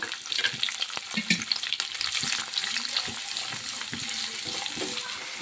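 Chopped onion and green chilies fry in hot oil over tempering spices, a steady close sizzle with frequent stirring scrapes and clinks throughout.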